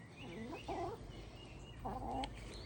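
Backyard chickens give two short bursts of clucking calls, close and fairly quiet over a steady low background hum, with no talk.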